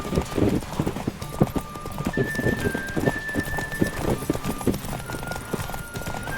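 Rapid hoofbeats of a galloping horse in The Witcher 3: Wild Hunt clatter steadily throughout, with a neigh rising over the rhythm and faint talk mixed underneath.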